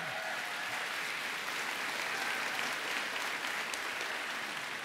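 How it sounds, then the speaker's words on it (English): An audience claps steadily for the Premier at an event about investing in Canada's navy, a dense, even burst of applause lasting throughout, moderately distant and without talk. "Give a round of applause for your Premier."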